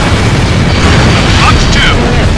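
A missile explosion hitting a building in the jet combat game Ace Combat Infinity, heard as a loud, rumbling boom that sustains through the moment, with faint higher whistling tones near the end.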